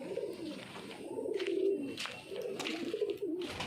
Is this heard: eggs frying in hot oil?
no